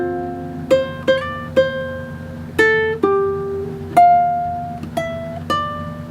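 A ukulele plays fingerstyle notes, about ten plucked single notes and double-stops in an unhurried rhythm, each ringing and decaying, close and clear with no talk.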